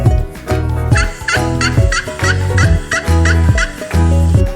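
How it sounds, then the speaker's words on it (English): A turkey gobbles repeatedly in quick, rattling bursts, loud and close, with no other sounds around it. "Turkey."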